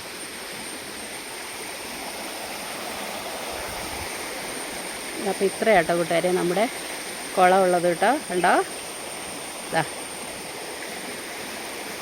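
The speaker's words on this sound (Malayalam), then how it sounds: "ഇവിടെ നല്ലൊരു കനാൽ ഒഴുകുന്നുണ്ട്" A canal beside a temple pond at a sacred grove gives a steady broadband rush of flowing water throughout, with someone talking over it in the middle.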